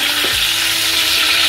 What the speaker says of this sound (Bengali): মাছগুলো আমি হালকা করে ভেজে নিচ্ছি